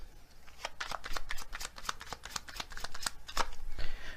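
A deck of oracle cards is shuffled close up, producing quick rustling riffles and soft slaps in an irregular patter, fairly quiet with no talking.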